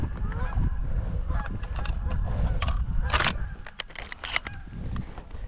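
Geese honk repeatedly on a farm goose hunt, several sharp calls rising over a steady outdoor rumble, with faint talk in between.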